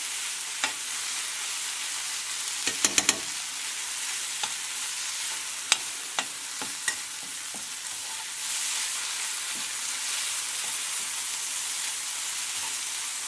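Ginger-garlic paste fries with onions and tomatoes in a pan for a chicken spinach curry, a low continuous sizzle broken by scattered sharp clicks and clatters of a utensil stirring against the pan.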